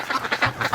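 Ducks emerging from a shed quack in a quick run of several nasal calls, close by and clearly audible.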